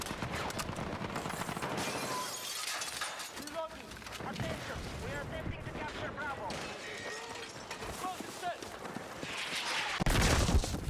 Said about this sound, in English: Stop the mortars.